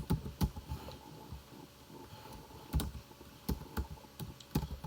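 Keys click on a computer keyboard as a command is typed at a prompt. The keystrokes come in short, uneven bursts, near and fairly quiet, with no talk.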